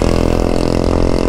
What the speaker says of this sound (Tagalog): Painitin din natin yung makina.